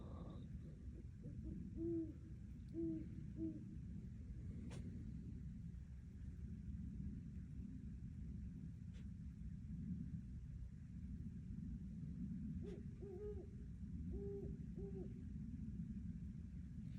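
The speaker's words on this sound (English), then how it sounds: "I have 2 owls." Two owls hooting at night from trees near a tent, each giving a short series of three low hoots, one group early and another about ten seconds later, over a constant low rumble.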